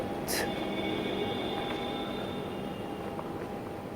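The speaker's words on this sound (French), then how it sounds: "Un métro fantôme." A subway train rolls through an empty metro with a steady, dense rumble throughout and a brief high squeal near the start.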